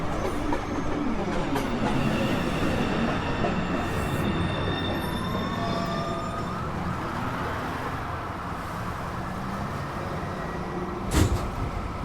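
An NYC subway 1 train rolls steadily into the 207th Street station, a continuous loud rumble of wheels on rails with rising squealing tones and a brief sharp clank near the end, no talk.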